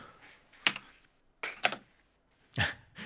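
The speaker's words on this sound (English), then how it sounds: "Sounds like a Model M keyboard." Typing on an IBM Model M keyboard comes in three short clacking bursts of keystrokes, crisp and close, with quiet pauses between them.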